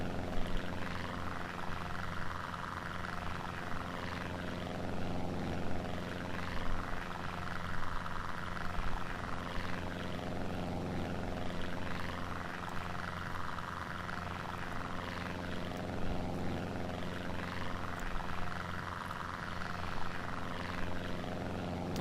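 Steady propeller aircraft engine drone from a simulated plane in the Prepar3D flight simulator, flying near RAF Church Fenton. The engine holds a continuous, fairly loud hum with rich harmonics for the whole stretch, with no talk over it.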